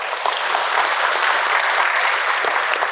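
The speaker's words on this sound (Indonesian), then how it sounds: "Mari kita beri tepuk tangan." Audience applause at a school graduation and farewell ceremony, a steady, even wash of many hands clapping that holds throughout without any talk over it.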